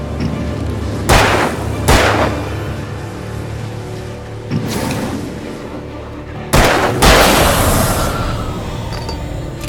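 A flare gun fires flares in Alan Wake: several loud, sharp bangs, each followed by a fizzing hiss, come at irregular intervals over a low steady ambience.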